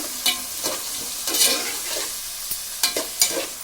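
Potato pieces stir-fried dry in a pan for a crispy fry, giving a steady sizzle broken by several sharp scraping strokes of a spatula, close and clear with no voices.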